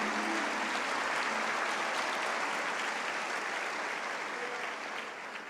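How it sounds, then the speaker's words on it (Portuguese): Church congregation applauding: a broad wash of many hands clapping at once, steady and sustained, easing slightly in volume near the end. "Pode aplaudir a Jesus"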